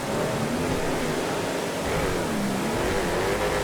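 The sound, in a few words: loud car engine in GTA FiveM video game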